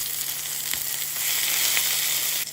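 Meatballs browning in a hot pan give off a continuous close sizzle and crackle, with a faint stir or scrape now and then.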